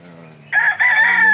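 A rooster crows loudly and close by on a farm, one sustained cock-a-doodle-doo rising over a low background hum.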